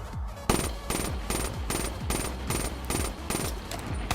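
Automatic gunfire from a PS4 shooter video game, loud repeated bursts in a fast steady rhythm, heard alone without talk.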